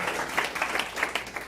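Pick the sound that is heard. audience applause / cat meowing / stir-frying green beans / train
audience applause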